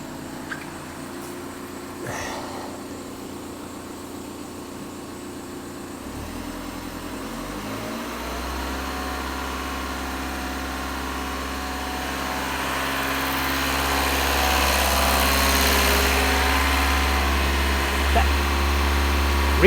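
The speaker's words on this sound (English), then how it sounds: "First thing, we'll get the engine running." A common rail diesel engine cranks and catches around six seconds in, then runs steadily with the throttle held near 2000 rpm, a loud, close, continuous drone that swells slightly over the final seconds.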